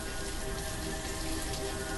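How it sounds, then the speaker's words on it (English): Steady rain with dense pattering falls in a game world, even and continuous at moderate volume with no voices. "But it's raining."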